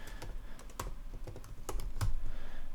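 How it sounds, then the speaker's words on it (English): Typing on a computer keyboard while coding, with scattered close key clicks that come in short irregular bursts and speed into a denser patter toward the end, with no voice. "but I'm going to just type it."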